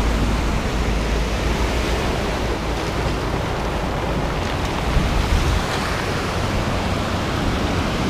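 Sea surf washing steadily onto an eroded pebbly shore where the water has cut a small ledge, a continuous broadband roar of breaking and receding waves with some wind buffeting, no voices.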